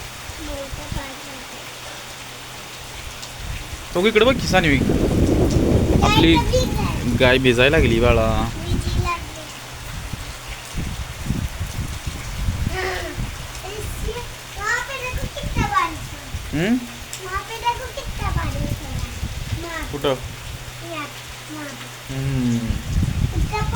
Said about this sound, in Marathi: किती पाऊस येतोय बाळा